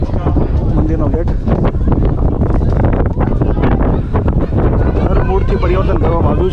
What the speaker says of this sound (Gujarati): મારો અવાજ પણ તમને કદાચ નહીં સંભળાય એટલો પવન છે.